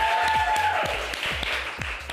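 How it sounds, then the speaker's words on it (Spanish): An audience at a televised beauty pageant gala applauds in a broad wash of clapping. Regular low thumps like a music beat run underneath it. "quiero pedirles un gran aplauso a nuestro queridísimo Arturo Islas Allende"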